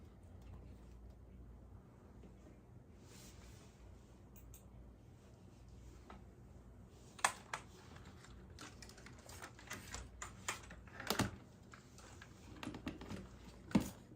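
Typing on a computer keyboard: quiet, sporadic clusters of key clicks over a steady low room hum, becoming busier and sharper in the second half.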